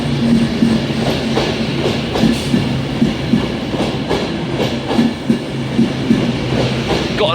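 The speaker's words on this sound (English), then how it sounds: "Your 1550 Avanti West Coast service from London Euston to Glasgow Central" An Avanti West Coast train, the 1550 London Euston to Glasgow Central named City of Liverpool, rolls into Carlisle station with a near, continuous rumble broken by rhythmic wheel clacks over the rail joints.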